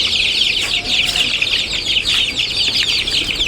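Broiler chickens raised in country-hen style cluck and squawk together in a dense, continuous chorus as they are let out, close and loud with no talking.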